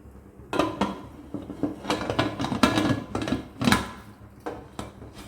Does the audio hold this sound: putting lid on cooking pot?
yes